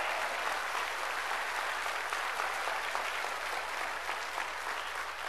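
A congregation claps together at a church service, a dense, steady wash of applause lasting throughout with no break.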